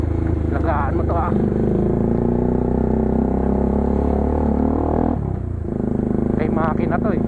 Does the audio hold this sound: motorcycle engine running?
yes